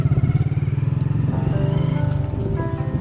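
Motorcycle setting off, a close, steady low engine putter with a fast pulsing rhythm that rises slightly in pitch as it pulls away.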